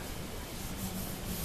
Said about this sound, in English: So the next thing to do is clean up all the sawdust.